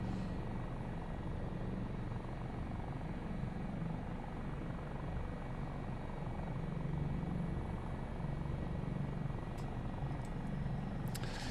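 HH-65A helicopter in Microsoft Flight Simulator 2024, set over New Zealand, drones steadily with a low rotor throb and turbine whine, close and constant throughout with no talk.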